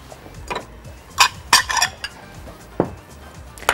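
Ceramic serving plate and dishes clinking as they are handled in a kitchen while plating labneh, a few sharp close knocks and clatters spaced across a short quiet stretch.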